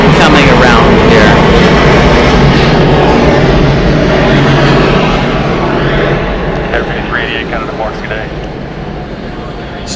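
Southwest Boeing 737-8 in Nevada One livery taking off at Atlanta Hartsfield-Jackson, a loud, broad jet roar that holds strong and then slowly fades as the plane pulls away.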